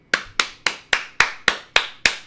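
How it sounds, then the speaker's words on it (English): A single person claps eight times in a steady, even rhythm. Each clap is sharp, close and crisp, with no voices around it. "Can I get a round of applause for the Chipotle workers"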